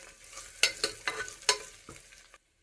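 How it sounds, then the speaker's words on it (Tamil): Crushed dal sizzling in hot oil on a low flame in a cooker, quiet frying hiss broken by several sharp stirring scrapes and clinks, then a sudden cut to silence. "இதை வந்து எடுத்து கொட்டிடலாம் எண்ணெயில். லைட்டாக லோ ஃப்ளேமில் வச்சு மட்டும் வதக்கி எடுக்கணும்"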